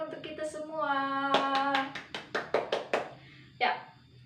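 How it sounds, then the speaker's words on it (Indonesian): A group of first-grade children clapping in a classroom, several sharp rhythmic claps in a loose series after a sustained tonal voice, with one last clap after a short pause. "Anak-anak, tepuk tangan untuk kita semua"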